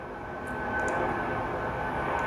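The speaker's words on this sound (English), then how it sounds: "Beautiful Airbus A300." An Airbus A300 airliner parked at an airport gate during midday loading, heard as a steady distant engine and ground-equipment rumble with faint high whine, continuous and moderately quiet, no talking.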